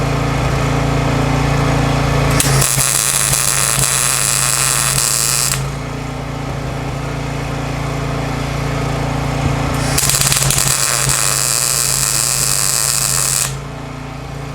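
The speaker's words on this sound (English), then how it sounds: "I'm putting the camera in front of me, and just welding." Welding in a small shop produces two loud, sustained crackling buzzes, each lasting several seconds, with a pause between them over a steady background hum. No voices are heard.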